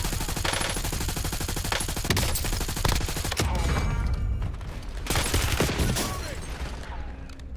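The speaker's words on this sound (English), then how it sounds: "That's the new SMG." Rapid, loud submachine gun fire in the video game Call of Duty Warzone, with dense automatic bursts, near-continuous shots and reload mechanisms layered over the game's background sound.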